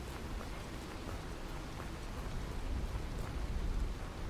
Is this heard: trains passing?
no